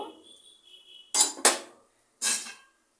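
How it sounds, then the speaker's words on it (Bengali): Metal utensil clinks against a pan as fried jackfruit-seed pakoras are lifted out, three sharp close scrapes and knocks after a faint hissing of hot oil. "পকোড়াগুলো হয়ে গিয়েছে আমি তুলে নেব"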